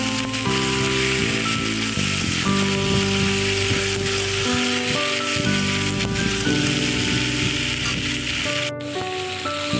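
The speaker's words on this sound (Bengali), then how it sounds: "আলুটা একটু বেশ লাল লাল করে প্রথমে ভেজে নেব, তারপরে যে ডাটাগুলো দিয়ে দিলাম।" Potatoes and drumstick stalks frying in hot oil, a continuous, even sizzle with crackling pops, heard close up while a tonal hum runs underneath.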